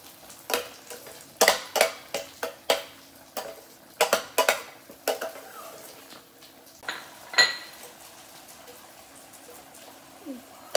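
A spoon scrapes and clinks against a cooking pan while tomatoes, onions and turmeric are stirred, giving a steady run of sharp metallic taps and scrapes over a faint sizzle, close up with no talking.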